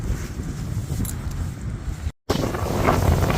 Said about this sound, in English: Safe to say it's still a little windy.